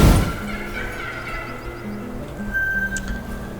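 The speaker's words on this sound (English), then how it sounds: "Got a turkey all the way out there." Wild turkey gobbling in theHunter: Call of the Wild, a distant gobble at the start over steady outdoor ambience with a low hum and a few faint bird notes.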